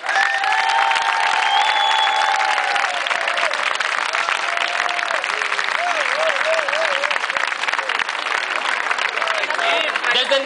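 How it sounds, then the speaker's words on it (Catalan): A crowd at a street demonstration in Alicante applauds loudly and steadily, with cheering and scattered shouts mixed into the clapping throughout. "Un fort aplaudiment per tots ells."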